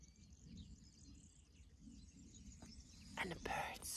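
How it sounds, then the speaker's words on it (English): Birds sing outdoors on a homestead in Central Portugal, with scattered thin chirps at first and then a brighter, louder burst of calls near the end over soft outdoor background noise. "And the birds. Listen to the birds."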